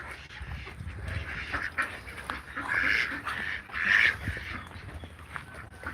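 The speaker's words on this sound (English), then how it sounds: "These are the mallard with the green heads, and these are the dino ducks." Mallard and Muscovy ducks quacking outdoors in a steady, noisy mix of overlapping calls with louder bursts. The rough calls carry over constant background noise, with no speech.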